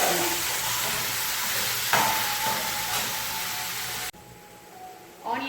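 Large onions frying in a pan for a Karaikudi chicken dish, a loud, dense sizzle that holds steady, then drops sharply near the end, leaving a faint hiss and a brief stir.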